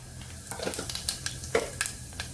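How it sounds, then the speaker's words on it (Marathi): Cumin seeds dropped into hot oil for a chole curry, giving a soft, crackling sizzle with scattered pops and light clinks of a spoon against the pan. "तेल तापलेले आता जिरं घालून घेणार आहे"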